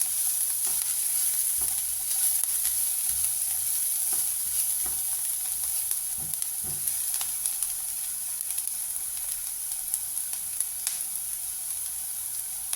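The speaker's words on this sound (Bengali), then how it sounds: "সামান্য একটু হলুদ দিয়ে ভেজে নিচ্ছি এটা" Vegetables frying with turmeric for Maharashtrian-style kande poha give a constant close sizzle, broken by light scraping and clinking of a stirring spoon, with no voices.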